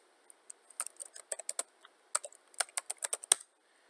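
Rapid keystrokes on a computer keyboard as a command is typed into a terminal, a burst of crisp, close clicks in an uneven rhythm with brief pauses, with no talking.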